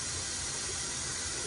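Running water hisses steadily and evenly, a soft, continuous spray while a dog is being bathed.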